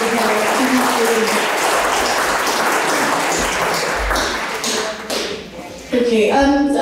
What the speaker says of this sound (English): So a round of applause for the girls here and the boys here.